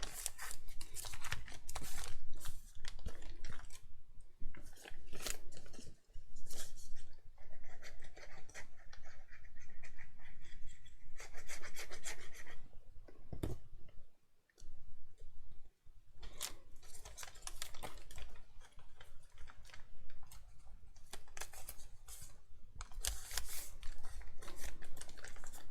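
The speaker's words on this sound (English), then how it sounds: "It's literally just stacking up the paper bags" Paper bags rustle, crinkle and are pressed flat as they are stacked and folded into a folio album, a steady run of dry paper handling with sharp creases and taps and brief quiet gaps.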